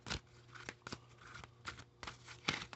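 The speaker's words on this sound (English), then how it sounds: "I'm going to shuffle the cards." A deck of tarot cards being shuffled by hand, heard as several sharp, separate riffling bursts spaced unevenly across a few seconds, close and fairly quiet, with no talking.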